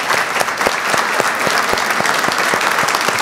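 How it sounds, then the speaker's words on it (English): Audience applause fills the room at an interview event, a steady wash of many hands clapping with sharp individual claps standing out, close and loud throughout with no talk over it. "I want to give you a round of applause for just being with us today,"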